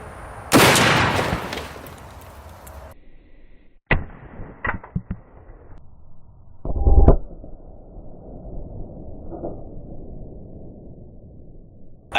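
A .50 caliber rifle fires a single loud, sharp shot that destroys its target, the blast cracking close up and then echoing away, with a few smaller impact bangs and knocks afterward.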